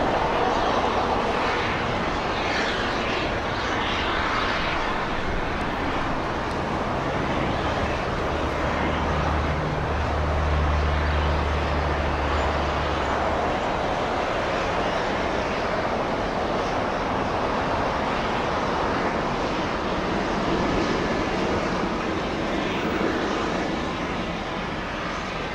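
A Beechcraft King Air turboprop landing at Los Angeles International Airport, heard as a continuous broad engine roar with a low droning hum mixed into loud, steady outdoor airport noise.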